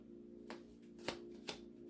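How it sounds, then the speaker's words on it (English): Tarot cards being shuffled by hand, a soft riffling with three crisp slaps spaced about half a second apart over a steady low hum, fairly quiet and close. "I was shuffling the cards backwards"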